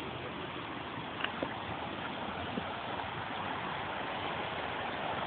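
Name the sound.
flooded river flowing high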